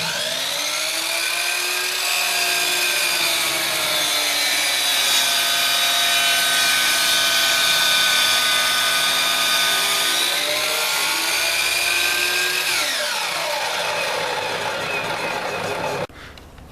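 A power saw whines steadily while cutting walnut pieces to rough length in a woodworking shop, its pitch dipping and rising under load for about sixteen seconds before it abruptly cuts off.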